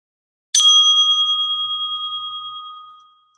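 A single bell strikes once with a bright, sharp attack. Its clear metallic ring sustains alone for nearly three seconds and fades slowly into silence.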